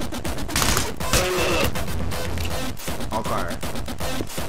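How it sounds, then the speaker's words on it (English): Rapid gunfire from the video game Anger Foot, bursts of shots crackling densely through a loud, busy game mix with crashes, while players talk over the action. "Let me shoot the club up some more."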